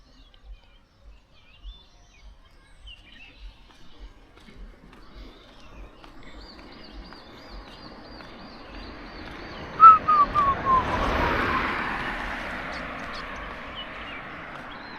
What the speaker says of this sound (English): Oh, some birds here.